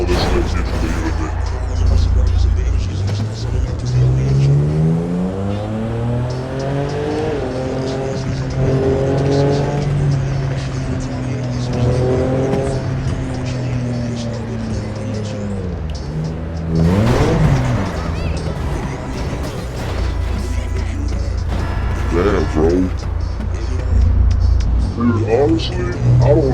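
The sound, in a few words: cars driving and passing in a video game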